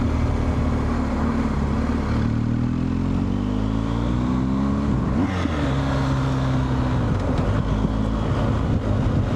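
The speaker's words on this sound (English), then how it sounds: "Gear didn't go in correctly." A motorcycle ridden on the road near Bishop's Waltham, its gear failing to engage properly: a loud engine drone under heavy wind rush, the revs climbing and shifting, then a brief stumble and surge midway before settling again.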